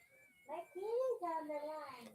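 Domestic cat meowing quietly in a home in the morning, several drawn-out rising and falling meows in close succession.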